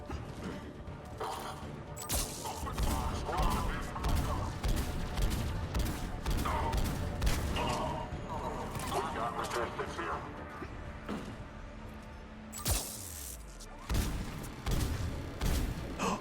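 Sustained rapid gunfire and turret bursts in the sci-fi shooter game Mass Effect 3, dense and loud throughout a combat scene, with sharp impacts and crashes, game sound effects layered over the shooting, and someone talking faintly under it.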